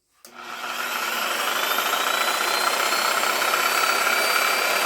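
A CAT DX58U reciprocating saw motor switches on and spins up quickly, then runs at a steady high-pitched whine with a rushing hum, loud and close, with no cutting and no speech.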